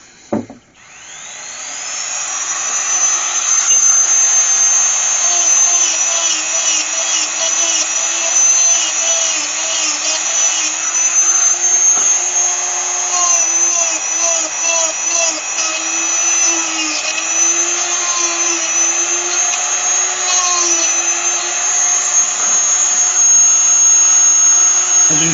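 A high-speed power carving tool dimpling the background of a carved spalted beech panel on a turned hollow form: a loud, continuous high-pitched whine held close throughout, with slight wavering as it cuts.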